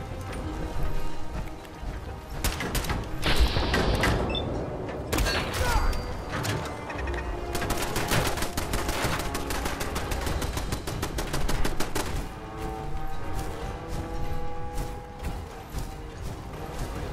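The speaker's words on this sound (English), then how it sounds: "Explosions in this game." Gunfire and explosions in the Fallout 4 Far Harbor expansion crackle as dense bursts of sharp shots and thumps across the stretch, fairly steady and busy, with a short voice briefly present.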